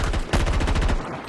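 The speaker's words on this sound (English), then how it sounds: "I can actually track targets and shoot again." Rapid automatic gunfire from a Conquest match on the Discarded map in Battlefield 2042: a dense, loud burst of quick repeated shots, close to the player, lasting under a second before fading out.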